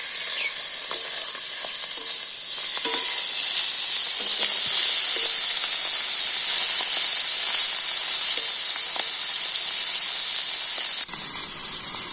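Food fries in a pan in a village kitchen, a steady loud sizzle and hiss that runs the whole time with small scattered pops and no voices.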